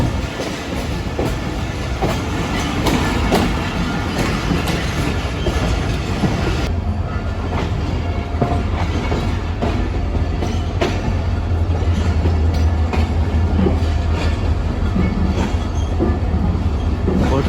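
The Fareed Express passenger train rolls loudly into Kotri Junction, its wheels rumbling and clattering steadily, with the sound shifting to a lower, heavier drone partway through as it slows.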